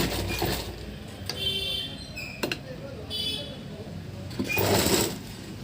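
A sewing machine stitches a blouse in short, uneven bursts, with a voice talking over the mechanical whirring throughout.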